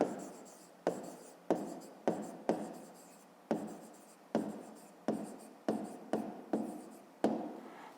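A pen writes a math answer on paper in close, brisk strokes, about a dozen short scratchy bursts in a rapid irregular rhythm, each starting sharply and fading, in a quiet room with no talking.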